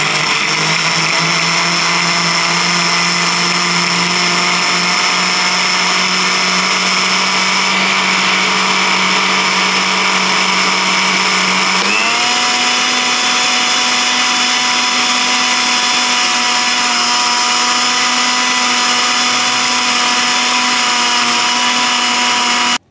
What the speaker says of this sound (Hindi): जब ये हो जाए उसके बाद इसको आपने ब्लेंड करना है